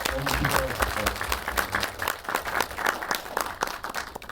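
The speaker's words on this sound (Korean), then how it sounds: "선배님을 위해서 다 같이 한 번만 박수를 쳐주시면 너무 기뻐요" Audience applause at a Korean film talk event, a steady wash of many hands clapping that fills the whole stretch with dense, even crackle, while a faint voice sits underneath at the start.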